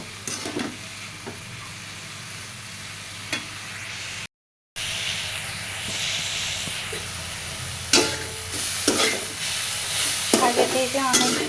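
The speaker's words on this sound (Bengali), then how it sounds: "হলুদ দিয়ে ভালো মতো ভেজে নেব" Leafy greens frying in a pan with salt and turmeric, loud continuous sizzle with repeated scraping stir strokes of a spatula growing busier toward the end, no talk.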